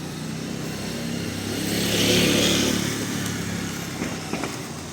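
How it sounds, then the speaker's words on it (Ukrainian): A motorcycle approaches from behind and passes nearby on a street in central Lviv, its engine swelling to a peak midway and then fading as it moves off. "Ззаді їде мотоцикл."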